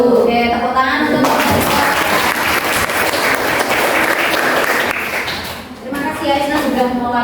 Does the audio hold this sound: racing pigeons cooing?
no